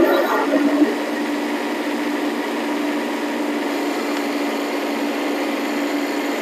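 A Kubota B Series tractor engine runs at a steady high-pitched drone while straining to lift a heavy load, its constant hum filling the clip with no talk.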